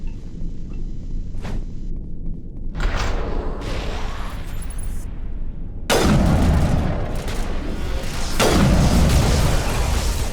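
Grenade explosions and gunfire in the video game Mass Effect Legendary Edition, with heavy booming blasts that cut in suddenly and then roll off, plus a sharp earlier shot, all loud over constant game noise.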